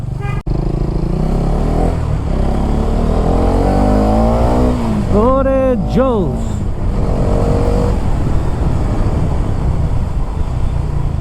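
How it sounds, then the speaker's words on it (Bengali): A Hero Karizma XMR 210cc single-cylinder motorcycle with a new aftermarket exhaust idles loudly and close, then revs up and down in a few quick rising and falling bursts before settling back to a steady rumble. "একজোস্টের সাউন্ডটা তো অস্থির"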